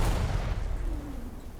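A PzH 2000 self-propelled howitzer in War Thunder fires a close-range shot: one heavy, low boom that rolls off into a fading rumble, heard alone.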